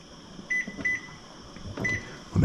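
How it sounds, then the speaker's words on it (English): Electronic kitchen timer being set for five minutes, giving three short, clear beeps spaced apart, with faint handling clicks and a thump at the end. "put it on the heat, then put a 5-minute timer on it."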